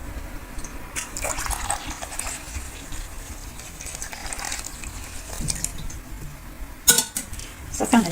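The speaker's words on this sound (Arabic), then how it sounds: "كنعجنوهم بالما سخون." Homemade bread dough of yeast, salt and sugar is mixed with warm water by hand in a bowl, giving soft wet squelching and rubbing with a few clinks against the bowl, close and moderately loud.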